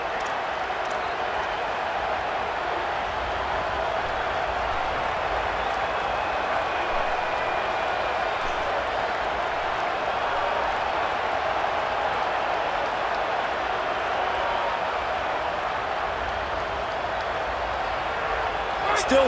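A stadium crowd at a football game roars in a steady, dense wall of cheering that holds loud and unbroken, with a voice faintly talking over it.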